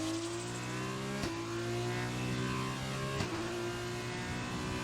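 An F1 2020 race car accelerates at full throttle, its engine a sustained high whine that climbs in pitch, broken by two abrupt gear-shift cuts.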